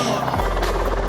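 A T-70 special forces helicopter flying during an evacuation flight display at an outdoor TEKNOFEST event, a steady rotor and engine drone with a low throb, loud and close throughout.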